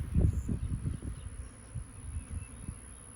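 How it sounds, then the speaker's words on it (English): Honeybees from a calm colony being removed from a water box buzz in a dense, continuous low drone, louder at first then steadier, with no talking. "So far, they're buzzing me, but they're not really trying to sting me."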